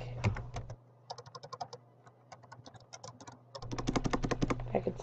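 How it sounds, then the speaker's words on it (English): Quick runs of keystrokes on a computer keyboard come in bursts with short pauses between them, close and crisp over a low steady hum. "type unforgettable"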